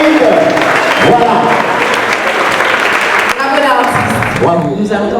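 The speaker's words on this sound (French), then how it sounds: "on applaudit encore plus fort, s'il vous plaît." Loud, dense crowd applause at a city awards night honouring local sports champions in Saint-Claude, steady throughout, with an announcer's voice and cheers audible over the clapping.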